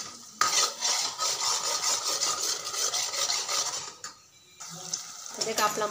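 A masala is stirred as it fries in oil for a Khandeshi-style drumstick curry. A utensil rasps and scrapes steadily against the pan in continuous strokes, with a short pause partway through.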